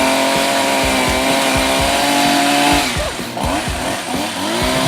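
A loud two-stroke chainsaw engine drones steadily, then pulses and bogs in uneven revs as it bites into a tree, close by.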